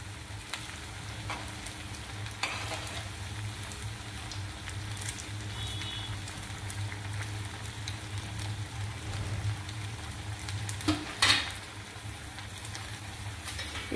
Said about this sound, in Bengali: দ্বিতীয় ব্যাচের বড়াগুলো আমি 2-3 মিনিট করে উল্টে পাল্টে ভেজে লাল করে নিলাম